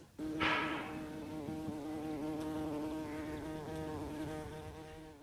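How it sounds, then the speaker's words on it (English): A bee buzzes close by near flowers in a sustained, droning hum that wavers slightly in pitch, starting abruptly and continuing alone without voices. "The bee is buzzing near the flowers."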